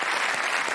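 Audience at the César award ceremony breaking into thunderous applause, a dense, steady roar of clapping from a large hall.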